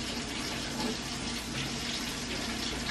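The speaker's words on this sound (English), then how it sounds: "I don't know how much water to pour." Water pours steadily into a pot or pan for a homemade casserole, a continuous close splashing stream with no talking over it.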